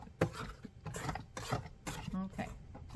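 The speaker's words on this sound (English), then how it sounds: "Let's scrape the sides." A spatula scrapes around the sides of a bowl of brown sugar brownie batter with chocolate chips, giving a series of close, rasping strokes in an uneven rhythm.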